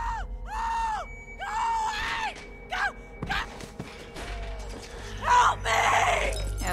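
Screams and yells from characters in The Walking Dead video game, several strained harmonic cries in bursts with gasps between them, over a steady low game rumble and clattering effects.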